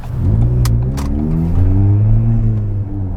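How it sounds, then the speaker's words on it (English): Ford Fiesta ST with a stage 1 map and backbox-deleted exhaust starting up and idling, a loud, close, steady low engine rumble with harmonic drone and a few brief clicks near the start. "let's turn this car on and go for a drive"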